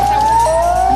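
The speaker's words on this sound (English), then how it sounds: "Blare of the tsunami sirens." A loud, steady siren wails close by with a single sustained tone that dips slightly midway, a tsunami warning siren sounding after a strong earthquake.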